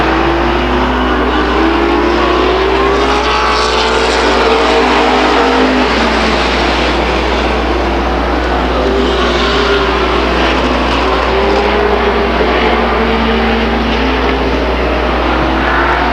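Race cars circle Stockton 99 Speedway, engines droning loudly and continuously, with pitches rising and falling as cars pass in a close, sustained pack.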